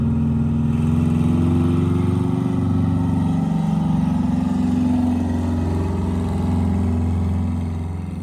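A repowered bus engine runs loud and close, holding a steady rumble that swells slightly with revving before easing off toward the end.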